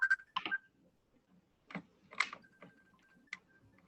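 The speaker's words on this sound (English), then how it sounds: "That's my phone." A mobile phone rings with an incoming group call, giving short electronic beeps and tones in irregular bursts, close and fairly quiet, with a sustained tone between some bursts.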